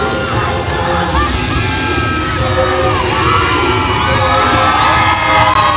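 A loud crowd at a high school competitive dance competition cheers, whoops and yells continuously, a dense, close roar of many voices with shrill shouts rising toward the end.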